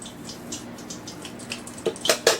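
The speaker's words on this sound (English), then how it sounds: "Just kind of let all that oil at the bottom kind of drip out." Infused dandelion oil drips slowly from a lifted strainer into a pan below, giving a few soft, close liquid drips over a quiet background.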